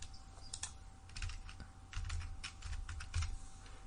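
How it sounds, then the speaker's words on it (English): Rapid, irregular keystrokes on a laptop keyboard clatter in bursts, close and fairly quiet, with a faint steady hum underneath and no talking. "You typing on that laptop."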